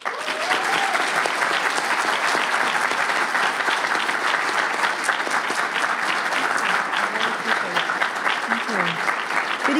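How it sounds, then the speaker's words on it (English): A university audience in Wisconsin applauds warmly as a speaker is welcomed onto the stage, dense sustained clapping that holds steady for about ten seconds with a few cheers mixed in. "please join me in giving a warm Warhawk welcome to the Honorable Kellyanne Conway"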